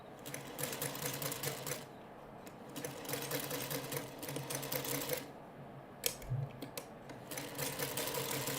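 A sewing machine runs in a steady, close whirring stitch run while piecing a Dresden quilt block, pausing briefly twice before resuming at an even pace.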